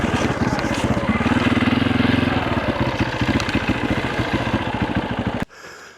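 A desert racing motorcycle's engine running close by, a loud, rapid, pulsing putter held steady for several seconds before cutting off abruptly near the end.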